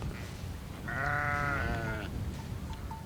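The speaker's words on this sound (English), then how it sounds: "They allow hundreds and thousands of sheep and goats to walk across here" A herd of sheep and goats bleats on overgrazed, exhausted farmland, with one loud wavering bleat in the middle and fainter calls around it, over steady outdoor background noise.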